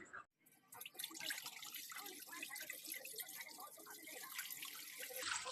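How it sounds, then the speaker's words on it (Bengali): Water pouring steadily into a pot in a home kitchen while making momo, a bright splashing stream that starts after a brief silence and grows slightly louder toward the end. "অনেকটা জল দিয়ে দিলাম"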